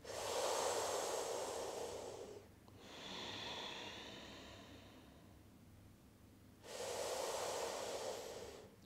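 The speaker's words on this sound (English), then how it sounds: "So Shatali breath is cooling for the emotions as well as the body." Shitali cooling breath during a morning yoga practice: a long, loud hissing inhale drawn through the mouth, a softer airy exhale through the nose, then another strong hissing inhale. The breaths are close and heard alone, without talk.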